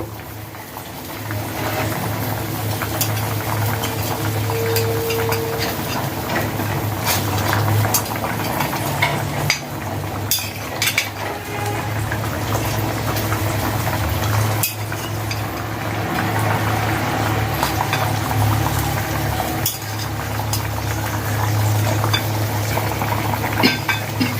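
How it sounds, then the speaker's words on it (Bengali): Fish curry broth boiling steadily in a cooking pot on the stove, a continuous bubbling simmer with a soft low hum and occasional small pops throughout. "ঝোলের পানি বলক চলে আসছে"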